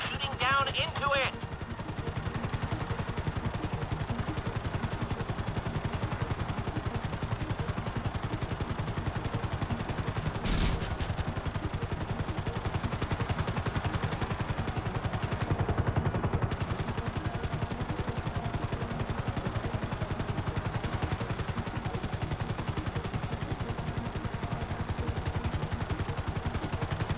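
Gunfire from a helicopter in the GTA 5 video game crackles steadily beneath a constant, loud rotor drone for a long, unbroken stretch, with occasional sharper shots standing out.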